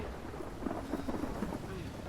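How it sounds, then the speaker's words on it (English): A thunderstorm in the video game Life Is Strange carries steady heavy rain with a low rumbling undertone. A faint, indistinct voice drifts briefly through the middle of the downpour. "I've never seen a storm like this in Oregon."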